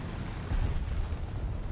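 Distant bomb blasts rumble through a War Thunder tank battle as an IS-4M heavy tank fights, a low rolling boom swelling midway and lingering as a heavy, muffled roar with no voices.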